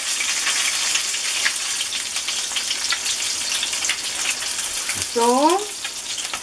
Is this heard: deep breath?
no